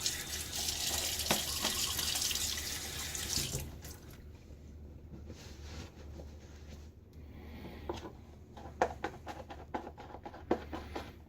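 A safety razor, a Timeless stainless .68 open comb holding a Gillette Nacet blade, is rinsed under a running tap: a steady close rush of water for a few seconds, then scattered small taps and clicks.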